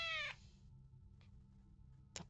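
A short, loud cartoonish cat meow from the Pox Cat character in the PopUp Dungeon video game, heard alone at the start, followed by a couple of faint clicks over a low background hum.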